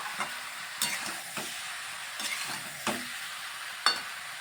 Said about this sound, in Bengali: দু তিন দু তিন মিনিট আমি একটু ভালোভাবে কষিয়ে নেব এই আলুটা